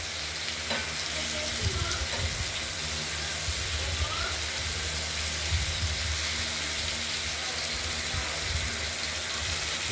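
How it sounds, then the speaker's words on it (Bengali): Cut pieces of katla fish fry in a pan with a continuous close sizzle, broken by light stirring and scraping sounds throughout. "মাছগুলো আমরা প্রথমে ভেজে রেডি করে দিচ্ছি"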